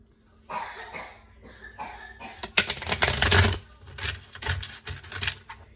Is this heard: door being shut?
no